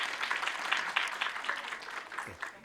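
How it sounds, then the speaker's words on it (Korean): Audience at a university career mentoring session clapping for a professor's lecture, a fairly quiet, even patter of many hands that continues throughout. "다시 한번 강의해 주신 조상현 교수님께 박수 부탁드립니다"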